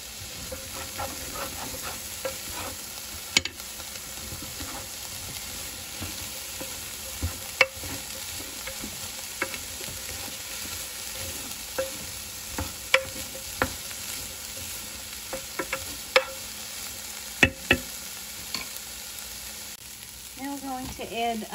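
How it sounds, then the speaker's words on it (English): Chopped celery stalks sizzle in a soup pot for homemade beef barley vegetable soup, a steady frying hiss broken by sharp knocks and scrapes of a spoon stirring the pot. "Let's add in 3 chopped celery stalks."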